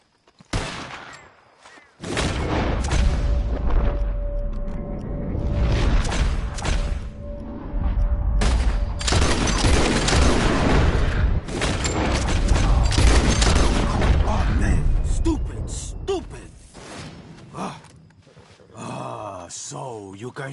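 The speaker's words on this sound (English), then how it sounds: "Whoever shoots four birds out of the sky first wins." Gunfire at birds flushed into the sky during a shooting contest in a western-style game, with scattered loud shots and booms over a steady rumbling backdrop and voices talking throughout.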